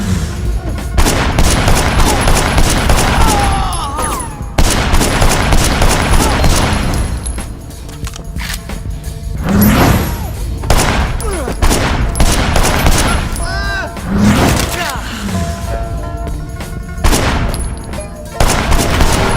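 Rapid bursts of gunfire crack through a slow-motion shootout in the video game Sleeping Dogs, layered over loud game effects and booms across the whole stretch.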